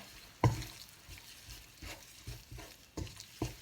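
Chicken and pineapple curry paste stir-fried in a pan, a spatula tapping and scraping in an uneven rhythm over soft sizzling, close and fairly quiet.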